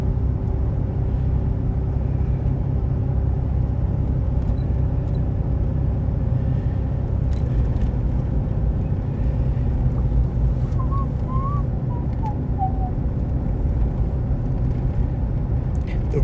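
A car cruising a beachside road at Surfers Paradise, a steady low engine and road rumble from inside the cabin that holds even throughout, with no clear talk.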